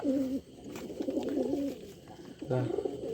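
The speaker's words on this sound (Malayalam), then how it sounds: "ഈ പ്രാവ് എടുത്ത് പൊന്തി ഈ ചെമ്മ പ്രാവ് ഇത് എടുത്ത് പൊന്തി" Pigeons coo nearby in soft, rolling, throaty calls, with two bursts of cooing separated by a short pause and a faint murmur behind them.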